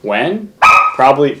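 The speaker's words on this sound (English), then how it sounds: "that was my dog" A pet dog barks loudly and close in a short burst of two or three yips and bow-wows during a live home broadcast, with a person speaking briefly alongside.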